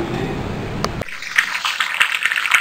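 Water being poured from a glass into a cooking pot for beef mince (keema) pulao, a close splashing gush that turns into a brighter trickling stream with small splashes.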